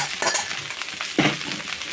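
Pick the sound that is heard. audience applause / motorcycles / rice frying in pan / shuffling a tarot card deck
rice frying in pan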